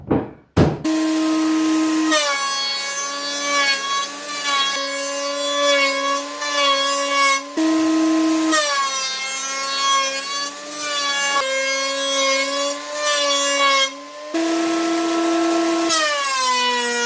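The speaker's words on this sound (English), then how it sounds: "Flip it over and just run the underside through the thicknesser as well." Thicknesser planing the underside of a timber and resin platter, a loud continuous motor whine with strong tonal pitch that shifts as each pass bites, with brief breaks between passes.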